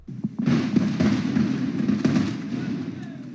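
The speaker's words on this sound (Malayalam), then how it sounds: "ഇരട്ട തുരങ്കങ്ങളിലൊന്നായ ഇടതുവശത്തെ ടണലിൽ 23 ദ്വാരങ്ങൾ തീർത്താണ് ആദ്യ സ്ഫോടനം നടത്തിയത്" A rock-blasting explosion goes off inside a twin-tunnel construction site, where 23 drilled holes are charged in the left tunnel. It sounds as a deep, sustained rumble with crackling bursts that rolls on for several seconds and fades slowly.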